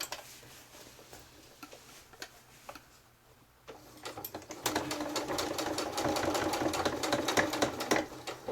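A sewing machine stitches a quilted, fully zipped and lined tote, first quietly with light ticking, then running loudly with a rapid, even mechanical chatter for the last several seconds.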